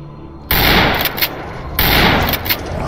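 Two loud shotgun blasts in STALKER Anomaly, each a sharp broadband boom with a short decaying tail, spaced about a second apart after a quiet opening.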